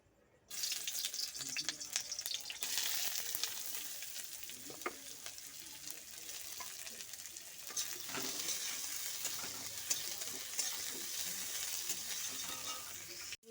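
Food frying in a wok on a gas stove, a continuous bright sizzle with stirring scrapes and occasional clatter, starting abruptly after a brief quiet moment and holding steady at moderate level.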